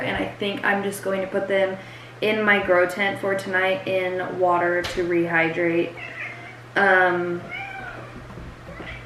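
A cat meows repeatedly and insistently, close by, its cries overlapping with a person talking throughout.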